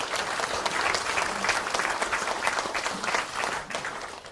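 Lawmakers at an emergency general caucus of the United Future Party applaud Kim Jong-in with brisk, continuous clapping from a roomful of hands, steady and fairly close throughout.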